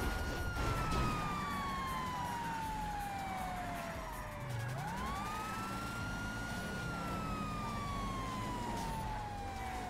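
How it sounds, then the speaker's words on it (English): A police car siren in a video game (GTA roleplay) wails, sweeping slowly down and back up in pitch, loud and close, over a steady road rumble with no talking. "I have my sirens on."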